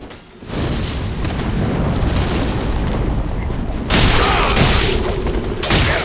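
Fire sprayed in a blast during Dark Souls 3 PvP, a loud roaring whoosh sustained for several seconds with a fresh burst partway through, close and dense.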